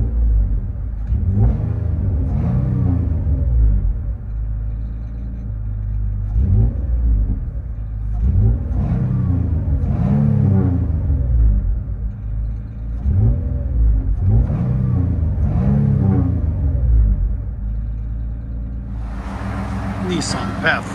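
2005 Nissan Pathfinder 4.0L V6 with a Flowmaster Super 10 knockoff muffler and rear bumper side-exit exhaust, heard from inside the cabin: repeated deep revs rising and falling in a steady pattern, loud and rumbly, with brief talk near the end.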